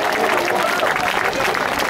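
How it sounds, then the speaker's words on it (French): An outdoor crowd at an anti-nuclear demonstration near the Tihange nuclear plant in Belgium applauds the organiser, a loud, dense wall of clapping and cheering that holds steady throughout. "je vous demande un gros applaudissement pour Louis."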